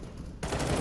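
Automatic rifle fire in the game CS:GO: after a brief quieter lead-in, a dense, loud burst of rapid gunfire erupts and carries on to the end of the short clip.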